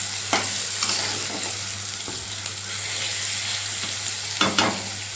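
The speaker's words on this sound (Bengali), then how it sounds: "এবার আমি সয়াবিনগুলো লাল লাল করে ভেজে নেব" Soybean chunks fry in a hot pan, a steady close sizzle broken by several scraping stirs with a spatula, with no voices.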